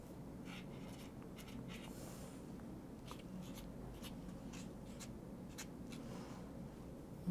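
Soft, steady scratching of a pencil drawing on paper in preparation for a fluid acrylic painting, close and quiet, with light intermittent strokes over a low background hum.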